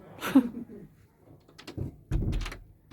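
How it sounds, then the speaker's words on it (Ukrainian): A door swings shut at a Roman bathhouse museum in Heerlen, giving a couple of muffled thuds after a woman's brief speech. "Двері закрила."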